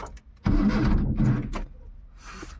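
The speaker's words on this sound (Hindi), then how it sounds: "पुरानी गाड़ी लेके जा रहा हूँ मैं," An old car engine cranks and catches on a village morning, a short starter whir followed by a loud, rough burst of the motor coming to life, then settling briefly before a faint higher mechanical whine.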